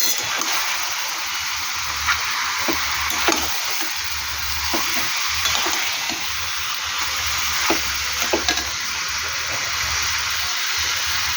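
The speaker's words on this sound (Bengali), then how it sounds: "এবার আমি একটু নেড়ে দেবো।" Milk biryani cooking in a pot is stirred, giving a steady broadband sizzle with scattered scraping clicks of the spoon throughout, fairly close and continuous, with no talking.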